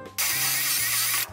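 A drill drives a screw into a pocket hole during a furniture flip, one loud close continuous whir of about a second with a brief change in pitch midway, starting and stopping abruptly.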